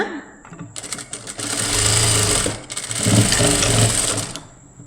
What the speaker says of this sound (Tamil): கால் இன்ச்சில் தையல் போட்டு ரெண்டு தையல் போட்டுடுவோம் டபுள் ஸ்டிச் போடுங்க